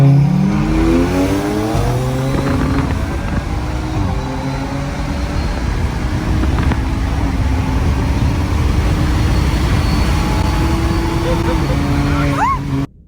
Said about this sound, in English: me and Cody just did a pull together on a road in Mexico